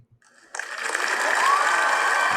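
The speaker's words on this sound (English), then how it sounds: "That applause is for Jacob Fagundes." Canned applause added to a podcast: after a brief quiet lead-in, a steady wash of clapping swells in and holds evenly at close, loud level.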